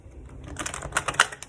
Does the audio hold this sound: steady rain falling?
no